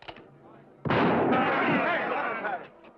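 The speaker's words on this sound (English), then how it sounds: "I'll try firing over their heads." A single loud gunshot fired over the heads of an angry crowd in an old Western town, a sharp blast at close range with a long ringing tail, cutting through murmuring voices beforehand.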